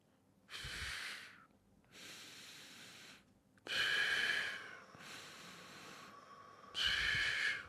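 Slow, deep breathing in and out during a guided belly-breathing exercise, with breathy inhales and exhales alternating in long, even cycles several seconds apart, close and clear with no talk.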